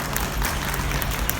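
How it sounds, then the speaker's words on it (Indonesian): Brief burst of audience applause at the 13th GAMMI congress, dense and steady clapping filling the hall with no voice over it. "Tepuk tangan untuk mereka."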